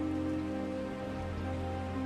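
Heavy rain pours down in a steady, dense hiss of drops striking surfaces, continuous and even throughout with no voices.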